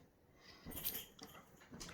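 A little puppy gives faint, soft whimpers and snuffling noises close by, brief breathy squeaks scattered over two seconds against quiet room tone.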